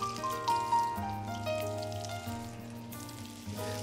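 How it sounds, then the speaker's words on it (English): Oxtail pan-frying in oil in a K-Art nano marble pot, a soft steady sizzle running throughout, fairly quiet and close, with faint tonal background music layered over it. "We need to pan fry and seal the oxtail until caramelized."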